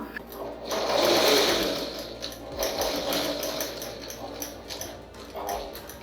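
A sewing machine runs a facing stitch along a folded fabric edge in steady, moderately loud whirring that swells and eases over a few seconds.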